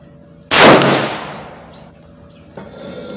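A single loud gunshot from an IWI Tavor SAR bullpup rifle at an outdoor shooting range, with a sharp crack and a long decaying echo, followed by a fainter clank near the end.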